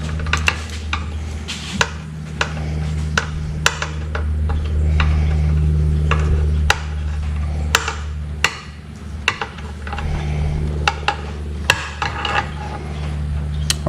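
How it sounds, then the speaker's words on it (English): A 7/16 Matco wrench works an old bolt loose from the lower unit of a 1974 Johnson 50 hp outboard, with sharp metallic clicks and taps repeating irregularly over a low steady hum. "So let's take that bolt out."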